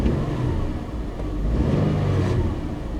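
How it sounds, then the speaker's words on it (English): A 2007 Subaru Forester with a clutch fault, its engine droning loudly and close with a slight chattering rattle as the accelerator is released and revs ease off. "Hear too a little bit of a chatter when I let off the accelerator."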